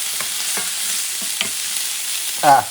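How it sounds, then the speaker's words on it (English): Garlic frying in olive oil in a pan, a soft steady sizzle with a few scraping stirs and a brief louder clatter near the end. "Now I'm going to add the garlic. Put some of the olive."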